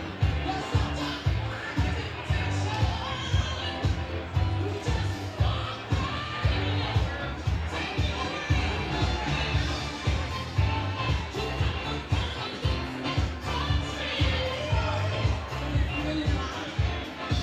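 A loud crowd roars at a boxing undercard event in a ringside arena, a thick, continuous hubbub with rhythmic pulsing thumps, probably arena music, running underneath and no break in the noise.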